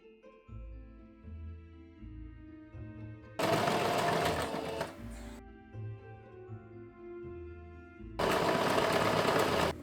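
A sewing machine stitches front and back shirt panels for a cosplay outfit in two loud, fast, rattling bursts of a few seconds each, with a quiet music background between them.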